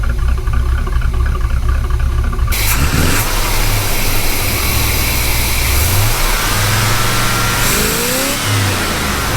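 A 1977 Corvette C3 with an L82 Chevy 350 V8 runs loud and close, a deep rumbling idle with a few brief revs rising and falling over it, and no one speaking.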